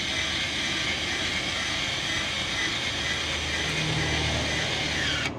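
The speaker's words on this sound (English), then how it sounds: "We've got BAL electric jacks, and they are stupid fast." Electric BAL jacks hum steadily and loudly as they raise a 2025 Winnebago Micro Minnie 2100BH travel trailer, a continuous broadband motor drone with a deeper tone joining near the end before cutting off.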